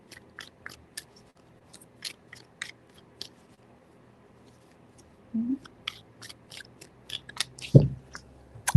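Tarot cards are shuffled three times in a quiet room, giving soft, rapid riffling ticks and crisp snaps in short bursts, with a few louder thumps and rustles toward the end.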